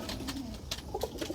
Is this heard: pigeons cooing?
yes